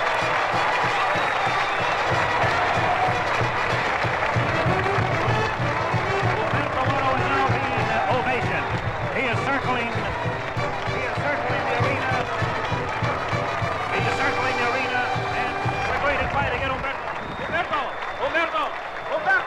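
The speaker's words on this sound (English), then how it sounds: "Listen to the crowd." Bullfight crowd in the Tijuana arena cheering and applauding: a broad, sustained roar of many voices and clapping, with a commentator talking over it throughout.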